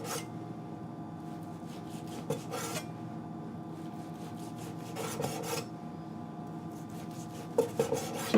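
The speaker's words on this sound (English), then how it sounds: "1/4 of an inch wide across the grain of the bacon" Knife slices bacon across the grain into quarter-inch strips for baked beans, making a series of soft rasping cuts and occasional board taps in short bursts, fairly close and quiet.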